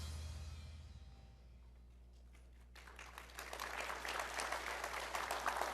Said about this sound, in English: Got a round of applause